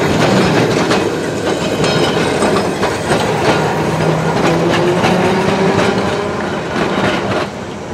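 A tram rolls past on a city street in Milan with a loud, close, continuous rumble and rhythmic clacking of wheels over rail joints, faint squeals on top, holding steady throughout.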